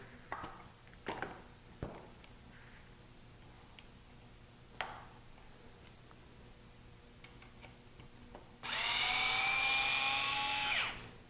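A 2mm hex driver backs out the top screws of a front skid plate support on an RC truck during a Pro-Line ProTrac suspension install, with scattered small ticks and clicks, then a steady high whirring burst near the end, close and quiet.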